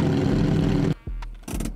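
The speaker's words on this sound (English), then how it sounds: "But we're going to go ahead and do a cold start." A Ferrari Enzo engine in a Roblox driving game cold-starts with a loud, dense roar that cuts off abruptly, followed by a few short engine blips and a renewed rev.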